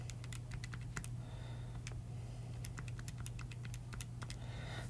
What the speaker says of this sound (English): So you can probably hear my calculator clicking away.